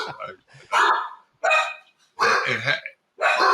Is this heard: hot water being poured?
no